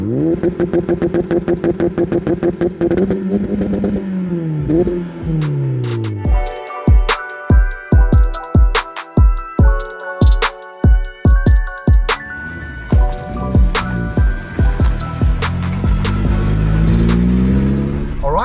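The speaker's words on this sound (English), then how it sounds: "we are out in the Cupra, 440 brake horsepower" A Seat Cupra with a stage 3 big turbo making 440 bhp, heard close and loud as it drives and revs hard, the engine note rising and falling through repeated gear changes with sharp popping bursts between shifts.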